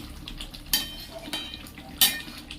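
Mung dal fritter curry being stirred in a pot, three distinct spoon clanks against the metal over a soft, steady simmer, no talking.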